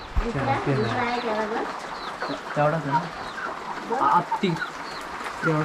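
Chickens cluck and squawk close by in short repeated bursts, with people talking in the background.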